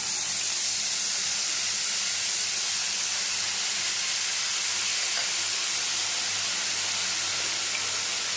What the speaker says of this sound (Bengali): সর্ষের তেলটা গরম হয়ে গেছে এবারে এই তেলের মধ্যে দিয়ে দিচ্ছি আবারও কিছুটা লবণ আর দিয়ে দেবো বেটে রাখা কাঁচা লঙ্কা আর আদা দিই